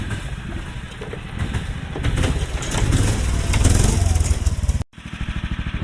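A Club Car golf cart swapped to a Predator 459 engine with a Honda Grom muffler runs nearby, its loud, chugging exhaust rising as the throttle builds, then dropping back to a rhythmic idle after a brief cut.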